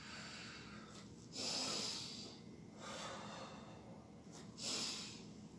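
Slow, steady breathing during a gentle yoga stretch, three long breaths rising and falling close by with a hissing rush of air, alone over quiet room noise.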